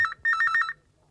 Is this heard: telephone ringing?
yes